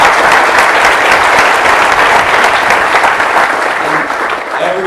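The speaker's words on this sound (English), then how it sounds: "let's give it one more clap for them." Loud, dense applause from an inauguration audience, steady clapping filling the room without a break and easing slightly at the end.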